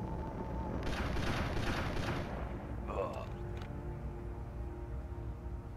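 Gunfire from the Destroy All Humans! video game: a sustained, dense burst of shots over the first couple of seconds, then scattered fainter cracks over a steady game background, with no one talking.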